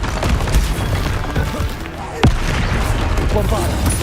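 Combat spellcasting in Hogwarts Legacy: the Expelliarmus disarming spell fires amid a dense, continuous rumble of battle effects, with one sharp impact cutting through partway.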